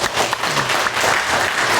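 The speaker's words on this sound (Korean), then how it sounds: "저를 위해서도 박수 한번 쳐주시고" A church congregation at a Sunday worship service breaks into brief applause, a dense burst of clapping from many people in a room.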